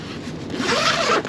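A zipper on a Ruffliner dog seat cover inside a car backseat is pulled along in one continuous rasping stroke, close and clear.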